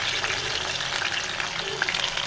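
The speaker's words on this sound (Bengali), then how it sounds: "পেঁয়াজটাকে একটু নাড়াচাড়া করব ভালো করে" Chopped onion and garlic frying in oil are stirred with a spatula, a dense continuous sizzle with soft scraping and scattered pops throughout.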